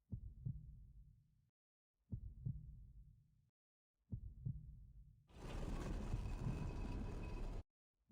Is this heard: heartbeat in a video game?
yes